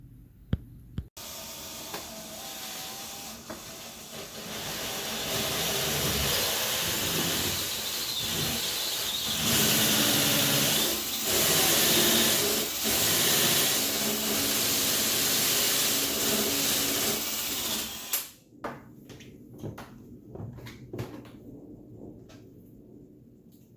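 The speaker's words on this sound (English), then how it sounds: "I'll pre-drill these holes, and then I'll take a hole saw and just take the depth I need out of that." A power drill pre-drills holes and then drives a hole saw into the workpiece while building a DIY pull-up bar, giving a loud, sustained grinding whir that runs for most of the stretch before cutting off into a few scattered clicks.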